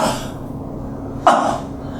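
A single normal cough, a short forceful burst of expelled air near the middle, close and distinct against a quiet room background.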